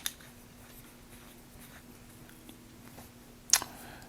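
A Retro 51 Tornado Lincoln fountain pen writing on paper, giving a faint, quiet scratching across a hushed room with a steady low hum, ending in a brief sharper tap or click.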